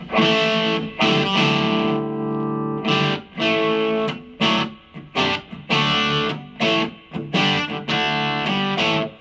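An electric guitar played through a Marshall MG15 MSII amp with the gain turned way down gives a loud, lightly distorted tone, with chords and notes in short phrases separated by brief breaks.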